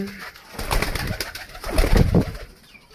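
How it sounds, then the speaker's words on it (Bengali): A pet pigeon coos close and loud, several throaty rolling coos following one another with short gaps, fading toward the end. "এই যে পায়রাটা নিয়ে আসলাম আজকে আমি"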